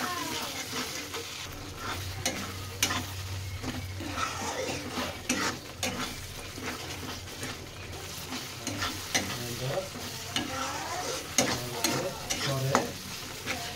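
A kadai of masala with cream being stirred for kadai paneer, a steady low sizzle of frying under repeated scraping strokes of a spoon against the pan, close and moderately loud with no voices.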